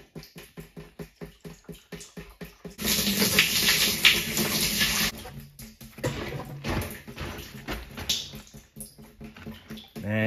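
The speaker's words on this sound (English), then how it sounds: "Oh, it's draining like crazy." Water gushes loudly from a homemade discharge system as a tank drains out, a steady rushing flow that surges after a stretch of quieter clicking and rattling and then continues unevenly.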